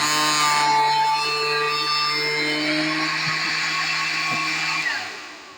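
A 12-volt lithium battery powered sprayer's motor runs with a loud, steady high-pitched whine and hum, then winds down and stops near the end.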